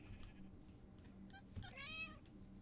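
A kitten in Minecraft gives a short, high meowing call partway through, fairly close and clear over a steady low background hum, with a brief faint chirp just before it.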